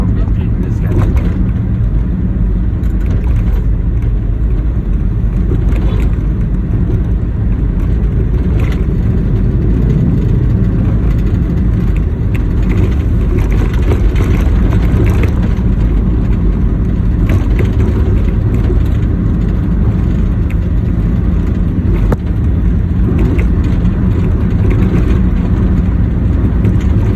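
A motorbike cruising at roughly 60 to 70 kilometres per hour on a road from Yogyakarta toward Setumbu hill, a constant loud rush of engine and wind noise with a passenger talking over it.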